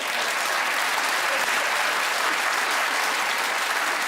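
Studio audience applause on a comedy panel show, a loud, even roar of clapping hands that holds steady from start to finish with no talk over it.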